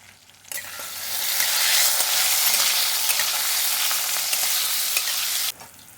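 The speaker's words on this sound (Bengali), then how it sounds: "আলুগুলো বেশ ভালো রকম ভাজা হয়ে গেছে" Potatoes with a pinch of turmeric frying in a pan, a loud, steady sizzle that swells in after a quiet start, runs unbroken for several seconds, then cuts off abruptly.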